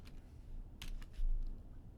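Typing on a computer keyboard into Notepad, a few soft scattered key clicks over a quiet room hum, faint and irregular.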